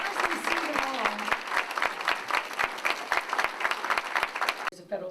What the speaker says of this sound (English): I would like the entire diversity staff, our mighty team, to stand for a round of applause